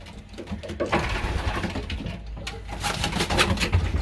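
Soft, low pigeon coos repeating through a steady rustling background, fairly close, with faint patter and shuffling of birds in an enclosure.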